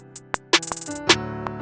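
A programmed beat with fast hi-hat rolls leading into the snare or clap: quick clicking ticks bunched into rapid bursts between sharp hits over a sustained bass tone, short and busy.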